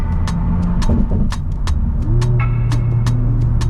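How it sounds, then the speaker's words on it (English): A powerful car engine rumbles up close and drops a gear, its deep growl broken by a series of sharp popping cracks. "Just even a downshift. Listen to this, guys."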